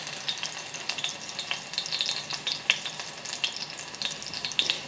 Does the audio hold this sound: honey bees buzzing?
no